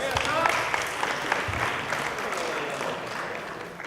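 An audience claps for a spoken word performer at a student research poster session, a moderate continuous patter with some voices murmuring beneath it.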